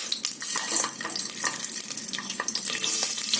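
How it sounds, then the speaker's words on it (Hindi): Ginger and garlic fry in about a tablespoon of hot oil inside a pressure cooker, giving a steady close crackling sizzle with scattered sharp pops and stirring scrapes throughout, no voices. "थोड़ी देर इसे हम फ्राई कर लेते हैं।"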